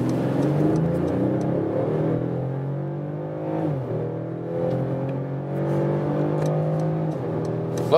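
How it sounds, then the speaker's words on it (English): Mercedes-Benz E-Class All-Terrain facelift crossover wagon accelerating from about 30 km/h onto a motorway, heard from inside the cabin as a steady, rising engine drone with no talk. "We accelerate from 30 kilometers an hour to whatever."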